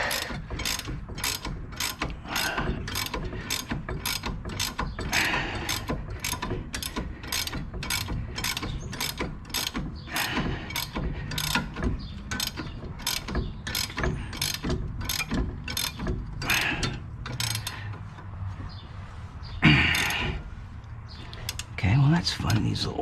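A stiff nut on a 2013 Grand Cherokee is turned off with a ratchet during a Rough Country 2.5 lift install, making a rapid, even run of close clicks that creak like they need oil, with a few louder knocks near the end.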